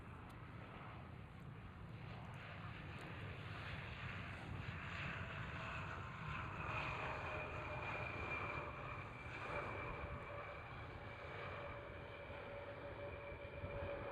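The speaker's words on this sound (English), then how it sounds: "That's KLM Cityhopper E175 with a little wobble upon touchdown." KLM Cityhopper Embraer E175 touching down at Schiphol, a steady distant jet roar with a faint engine whine, continuous and muffled throughout.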